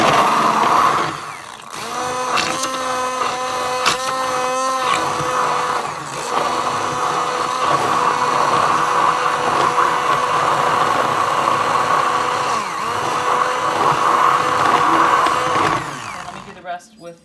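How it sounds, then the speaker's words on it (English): A motorized immersion blender whirs steadily for a long stretch, its buzzing hum dipping briefly at the start, then cutting off at the end. "And I'm going to use my immersion blender."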